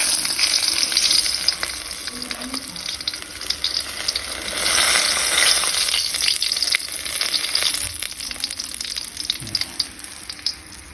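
Flour-dusted bangus (milkfish) steaks frying in hot oil give a loud, continuous, close crackling sizzle that holds throughout.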